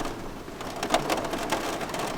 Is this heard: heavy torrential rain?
yes